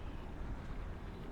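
Strong wind on a lake buffeting a fishing bait boat, a faint continuous low rush and rumble of gusts with no voices.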